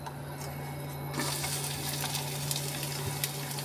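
Chopped onion hits hot oil in a wok and a steady, close sizzle swells and continues evenly, with faint stirring clicks and no talking.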